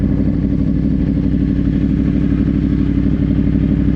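A Yamaha R1 motorcycle accelerating hard enough to lift its front wheel, with a loud, steady engine drone held close throughout and rumbling in a continuous low buzz.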